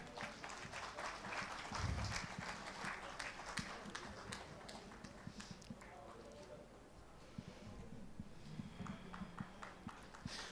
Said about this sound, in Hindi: आपकी तालियां कुछ कम पड़ रही हैं।